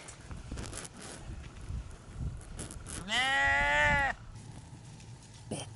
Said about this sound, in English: All the other sheep are over there